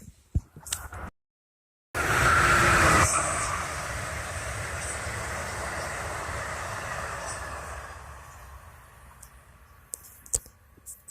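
Northbound Amtrak passenger train passing on the Northeast Corridor, a sudden loud rush with clicking wheels and a brief horn-like tone, slowly trailing off into quiet distance.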